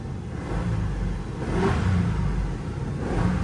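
A Ford F-250 engine rumbles nearby and rises in a short rev before settling back to idle.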